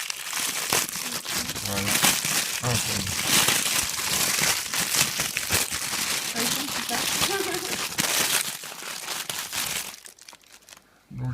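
Wrapping paper crinkles and tears continuously as a Pokémon Canvas gift package is opened up close, with someone speaking French over the rustling.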